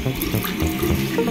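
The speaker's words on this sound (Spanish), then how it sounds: "Ahora tenemos que echarle más agua." Water being poured into a Nerf water blaster: a short, fairly loud, steady splashing gush of running water, like a tap filling a container, with no talking.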